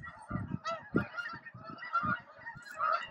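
Geese honking at night at a Maryland camping spot, a flock calling in overlapping nasal honks, some bursts nearer and louder, others softer in the distance.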